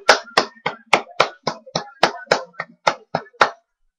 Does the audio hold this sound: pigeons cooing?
no